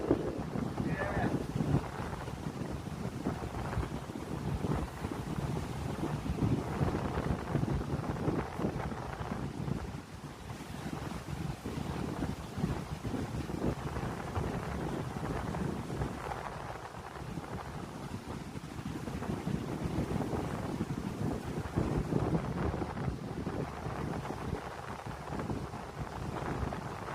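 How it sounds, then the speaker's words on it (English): Wind gusting on Ogwen Beach, a steady broadband rush with microphone buffeting and possible surf behind it, fairly quiet and continuous, with voices talking faintly over it. "It's windy."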